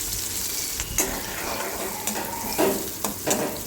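Green chillies fry in a pan while a spoon stirs them, giving a steady close sizzle broken by a few sharper scrapes and knocks of the spoon, with no voices.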